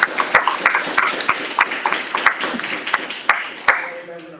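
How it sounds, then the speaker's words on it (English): A small gathering at a community evening event about drug criminalization gives a round of applause, a short spell of fairly sparse, distinct handclaps close by, fading toward the end as a voice begins. "Give a round of applause."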